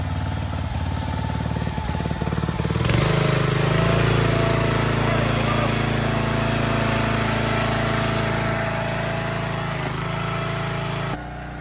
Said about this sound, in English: he brought his log splitter over here